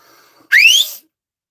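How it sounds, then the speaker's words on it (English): A person lets out one very loud, sharp whistle, a rising piercing note lasting about half a second, close and alone after near silence. "I got to whistle so my husband knows I'm ready because I can't see him"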